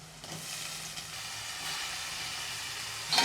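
Chopped vegetables with green onion and garlic sautéing in hot oil, a soft, even hiss and sizzle held steady throughout, with a sharper clatter right at the end, no talking.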